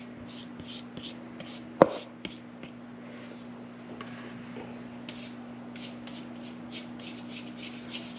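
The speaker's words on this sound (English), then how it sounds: "Scraping down all the sides just to make sure we get all of that flour and baking powder" Flour and baking powder scraped down the sides of a mixing bowl for hot milk cake, soft repeated scraping strokes close by over a constant low hum, with one sharp knock partway through.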